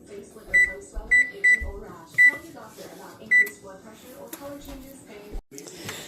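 Kitchen oven chiming through a series of short, clear electronic beeps spaced across the moment, about five distinct tones, heard nearby over faint room noise as the oven is set to preheat to 375 degrees for baking shrimp roll-ups.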